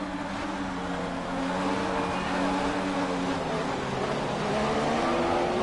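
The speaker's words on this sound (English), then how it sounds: "He sounds like he's still on the limiter." A race car engine holding at the rev limiter during a GP2 sim race at Abu Dhabi, a loud steady droning buzz with a slight pitch drift, with a commentator talking over it.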